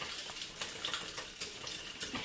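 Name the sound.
stirring a thickening onion mixture in a pan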